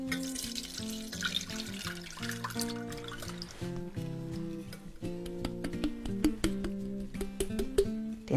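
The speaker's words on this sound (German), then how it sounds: "jetzt gieße ich die Kirschen ab." Cherry juice pours and trickles into a pot as cooked cherries are drained, a quiet, steady liquid splashing with small clinks and drips throughout.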